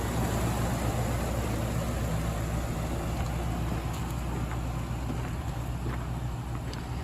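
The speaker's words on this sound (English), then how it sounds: "Ford put a brand new V10 engine in this truck. Listen to that thing." A brand new Ford V10 engine in a 2012 Ford F550 truck idles steadily with a deep, even rumble and a constant hum, no revving, heard up close throughout.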